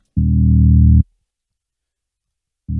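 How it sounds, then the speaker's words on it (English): An aggressive, distorted 808 bass from a drill beat: a thick, buzzing low tone held for nearly a second, then silence, with another hit starting at the end, loud and dry with no voices. "The final thing I did was add in the 808 bass."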